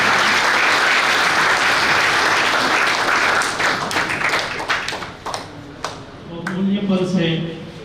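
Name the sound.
applause at a retirement party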